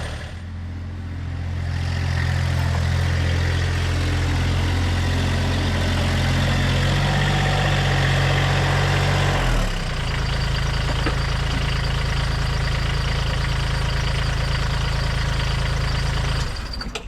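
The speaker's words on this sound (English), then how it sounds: "I'm going to take the tractor now, bring it around by the shop" A John Deere GC2300 compact tractor's diesel engine idles steadily nearby, a continuous low rumble with a knocking undertone that shifts slightly in pitch midway before cutting off near the end.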